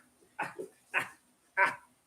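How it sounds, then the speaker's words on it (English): A crazed farm dog attacking livestock on an Australian farm, three sharp, loud barks spaced about half a second apart, close to the microphone, with a short yip after the first bark. "Fucking crazy dog attack."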